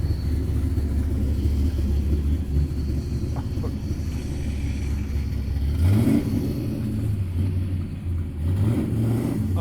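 A 1979 Camaro Z28 engine rumbles deep and loud while driving on the open road, with a rising rev near the end and no talking.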